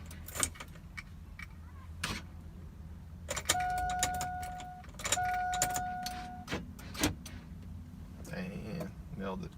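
Ignition key cycling in a 1998–2006 Chevrolet or GMC vehicle, with clicks and two sustained chime tones from the dash amid a low idle hum, plus a voice speaking in places.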